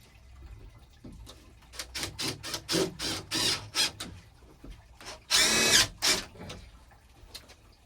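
A power drill drives screws through an OSB wall panel inside a shed. Short, loud whirring bursts come one after another in an uneven rhythm, ending in a longer, louder run near the end.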